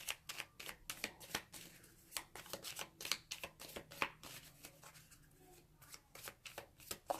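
Tarot cards are shuffled by hand in a steady run of soft, crisp riffles and slaps, close and quiet, continuing without pause and with no talking.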